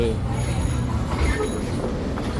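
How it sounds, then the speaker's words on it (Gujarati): A train rolls past close by with a continuous rumbling rush and faint metallic wheel squeal, steady and loud for the whole span. "જો સરસ મજાની ભાઈ ટ્રેનને એવું જઈ રહી છે"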